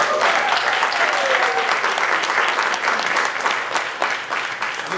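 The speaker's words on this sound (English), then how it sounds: "So let's applaud what we've already done this year." Audience applause at an annual membership meeting, a loud sustained burst of many hands clapping close by, thinning slightly near the end.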